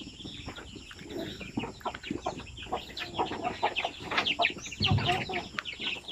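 Native chicken chicks from Bukidnon peep and chirp in a busy, overlapping chatter, with faint movement and handling noises around them and no clear speech.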